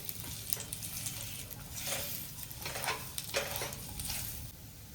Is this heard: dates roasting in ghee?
yes